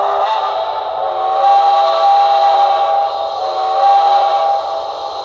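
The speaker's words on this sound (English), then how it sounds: "You can hear that nice steam generator too." Steady hiss and hum of the steam generator on a model AC-12 cab forward locomotive, an HO-scale Intermountain model with sound decoder, holding a continuous tonal drone with slight swells, alone with no talk.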